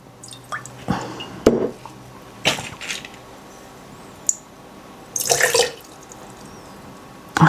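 Water splashes and drips in irregular bursts while rinsing a repotted Philodendron billietiae, with brief sloshing and rinsing sounds close by and quiet gaps between.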